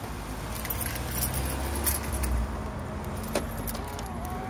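A bunch of keys jangles and rattles inside a car, a loose metallic clinking that comes and goes over a low steady background rumble.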